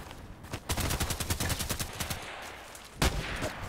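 Rapid automatic gunfire from the online shooter Contract Wars, with dense bursts of loud close shots rattling through most of the stretch and a sharp single blast near the end.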